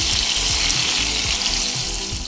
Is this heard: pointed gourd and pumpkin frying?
yes